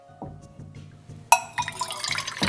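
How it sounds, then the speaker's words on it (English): Water poured from a small cup into a tiny stovetop coffee pot, a soft pouring splash that begins abruptly partway through and runs on to the end over a low, rhythmic background hum. "you fill that up with water and then you pour that water in here."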